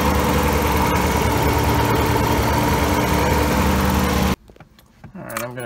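A Nissan 240SX engine with a slight misfire idles loud and close, a dense rumbling drone with a faintly uneven pulse, before cutting off abruptly and giving way to quieter handling noises.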